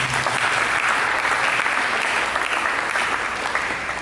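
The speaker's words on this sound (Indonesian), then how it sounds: "Mari berikan tepuk tangan." Church congregation applause during a sermon, a dense steady wash of clapping from a large crowd that holds evenly throughout without voices.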